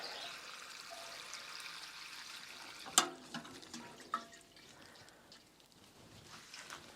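Water mixed with fertilizer is poured onto Mediterranean garden plants and a chili plant: a quiet, close trickle with a couple of sharp drips or splashes midway, then a faint wet patter.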